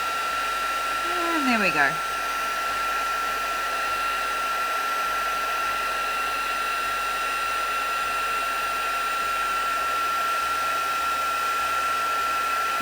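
A heat gun blows warm air over paper for embossing, a steady close whirring hiss that runs throughout, with a brief spoken remark near the start.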